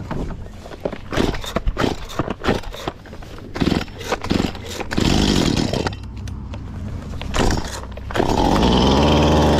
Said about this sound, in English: The old chainsaw.